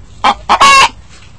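A hen grabbed by hand from a cage squawks loudly in three close, harsh bursts, the last one longest, with no voices over it.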